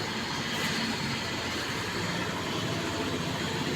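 A metro train rides along the line in Kochi, heard from inside as a steady, even rumble and hiss of motion that holds at the same level throughout, with no talking.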